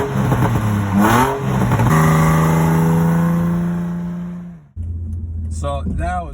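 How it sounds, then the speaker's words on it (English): A Nissan 350Z revs nearby, climbing sharply in pitch, holding a long high rev, then dropping to idle before a quick second blip, loud and close with no talking. "I saw a guy in a 350z NISSAN. He saw my camera, so he started revving it for me."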